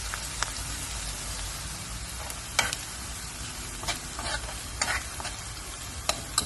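Garlic and ginger frying in a pan for a turnip dish, a steady dense hiss of sizzling oil with scattered sharp crackles and occasional spatula scrapes, fairly faint and without speech.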